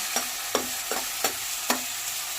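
Green chillies tossed into a hot pan and stirred, giving five sharp scraping strokes at a steady rhythm over a faint sizzle, close and fairly quiet with no voices.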